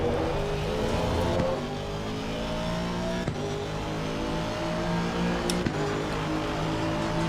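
An Aston Martin race car in the racing game Assetto Corsa Competizione, with a loud, steady engine drone and shifting harmonic tones as the revs climb and fall, plus a few brief clicks.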